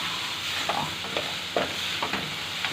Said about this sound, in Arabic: هنا يا حبايبي بنفضل نقلب كده البدنجان لحد ما يتشمع بالماده الدهنيه كلها